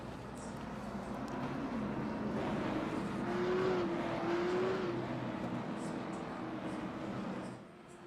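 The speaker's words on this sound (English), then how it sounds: "As the iRacing.com pace truck gets ready to haul us on down here." An iRacing pace truck leads race cars around Nashville Fairgrounds Speedway in a video game, a steady engine drone with a faint whine that rises and falls before fading at the end.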